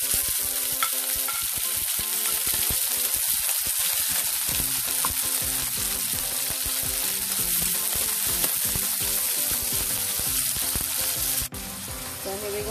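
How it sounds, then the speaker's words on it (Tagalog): Chicken meat sautéing in a pan for pansit bihon sizzles steadily and loudly, with stirring scrapes and small clinks throughout and a brief drop in level near the end. "Ito, ginigisa ko yung chicken meat"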